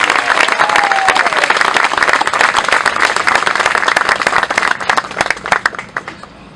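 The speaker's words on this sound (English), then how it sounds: "Let's give them a round of applause." Sustained crowd applause at an outdoor Equality Plaza dedication ceremony honoring local community leaders, dense steady clapping from many hands that thins and fades toward the end.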